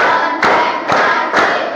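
Children clap together in unison in a classroom, three sharp group claps about half a second apart, loud and close over a steady background hum.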